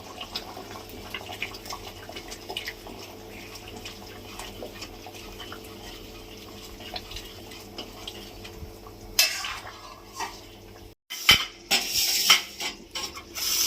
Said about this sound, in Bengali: এবার আমি এই গোলমরিচ জিরে আর কাঁচা লঙ্কা ঝোলের থেকে তুলে বাটা দিয়ে দিচ্ছি